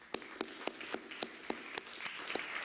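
Faint, rhythmic clapping in a church congregation: a steady beat of sharp claps about four per second over a soft wash of scattered applause, heard from a distance.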